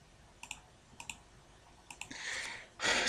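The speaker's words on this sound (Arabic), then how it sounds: "كليك يمين على كوماند برومبت واقول له run as administrator" A computer mouse clicking in the Windows command prompt, a few pairs of crisp, faint close clicks at a steady pace, followed by a brief rustle and a louder burst of noise at the end.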